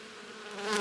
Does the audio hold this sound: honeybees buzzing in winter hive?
yes